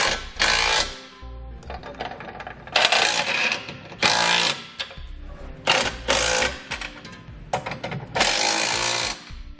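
Bursts of a power tool with a 19mm socket snugging flange nuts on a Curt trailer hitch under a 2018 Dodge Challenger, loud whirring and rattling runs of about a second each, separated by short pauses.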